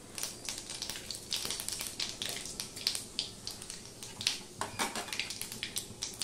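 Dried red chilli and panch phoron spices frying in a pan of hot oil, a soft, steady sizzle with quick crackling pops scattered throughout, close by and fairly quiet.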